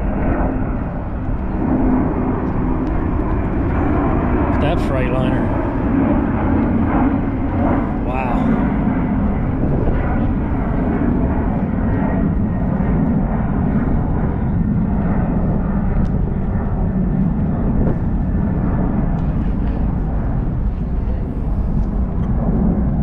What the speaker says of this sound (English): Got the planes flying overhead.